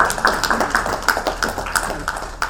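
Clapping from an audience at a leadership talk, a string of sharp, fairly regular claps in a room, close and moderately loud, with no talk over them.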